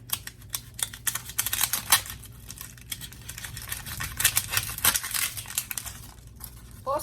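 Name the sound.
cutting the ends off a yellow onion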